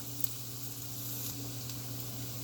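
Steady, continuous sizzle of penne alla vodka ingredients frying in a pan, a close, even hiss with a couple of faint ticks and no talking.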